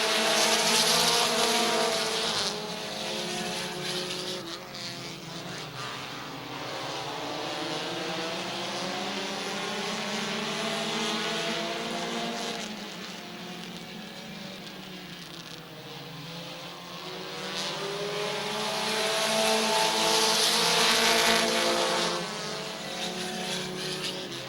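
Compact race cars running a 15-lap feature at Midvale Speedway, engines droning and rising and falling in pitch as the pack passes, growing louder near the start and end.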